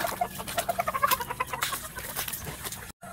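Hens clucking as they are fed leftover cooked rice, a run of quick rhythmic clucks and pecking patter close by, fading toward the end.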